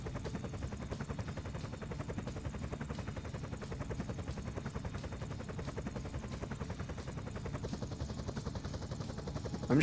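A helicopter in the game GTA San Andreas drones steadily and fairly loud throughout, its rotor chop continuous and even, with a brief louder bump right at the end.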